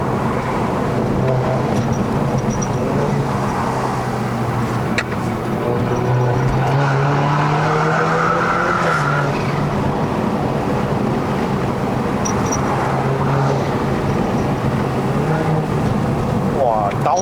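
A modified F30 BMW 320i LCI making 330 hp and 480 Nm climbs a Malaysian mountain road to Genting; its engine drones and swells through quick upshifts and downshifts under constant wind and road roar.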